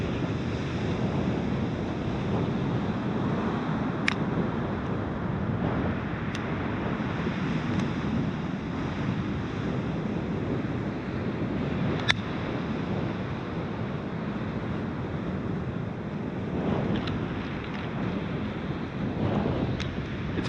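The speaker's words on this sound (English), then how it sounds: "I'm hoping you guys can hear the waves" Ocean waves wash onto an Outer Banks beach on a cool, crisp evening, a continuous broad surf roar with gentle swells, muddied by wind buffeting the microphone and a few sharp clicks.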